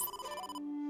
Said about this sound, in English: a call from Lemniscate